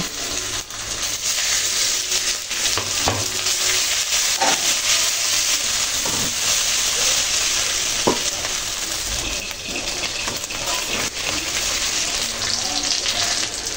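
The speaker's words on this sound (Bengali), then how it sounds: "আদা রসুন পেঁয়াজগুলো হালকা বাদামি কালার করে ভেজে নিলাম" Ginger, garlic and onion frying in a pan, a constant loud sizzle with occasional stirring scrapes and light knocks of a spatula, close by and uninterrupted by talk.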